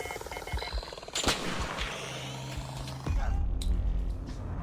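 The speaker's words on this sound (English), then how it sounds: "Oh, somebody shot me." Gunfire in the video game Arc Raiders: a sharp nearby shot around the one-second mark, another near three seconds, over steady game ambience and a low droning hum.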